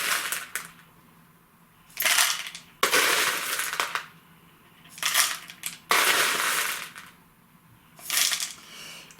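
Expanded clay pellets pour into an orchid pot in several separate rattling, crunching bursts, each lasting about a second, with quiet pauses between them, close and clear.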